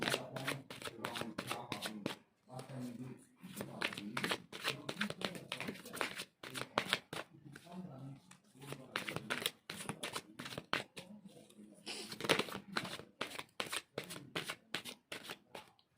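Tarot cards being shuffled by hand: a steady run of crisp, riffling flutters close up, broken by brief pauses, with a little quiet talk at times.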